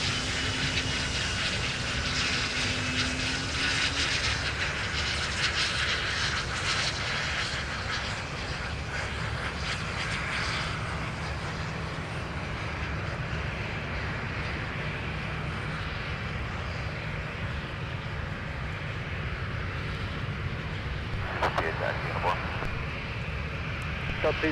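Aircraft engines rumble at Minneapolis-St Paul airport, a steady drone lasting throughout, with a brief louder burst near the end.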